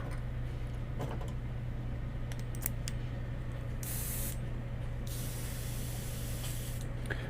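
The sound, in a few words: spray painting opaque white over faded silver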